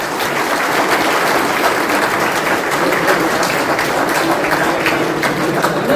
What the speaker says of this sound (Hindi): आप सबकी तालियां रुकनी नहीं चाहिए